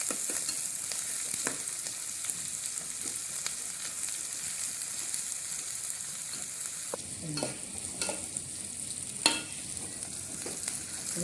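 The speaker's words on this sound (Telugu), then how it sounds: "పులుసు ఫ్రై చేయాలి బాగా" Masala sizzling and being stirred in a pan for an egg and drumstick curry, a continuous bright frying hiss broken by scrapes and clinks of the spoon, close and steady.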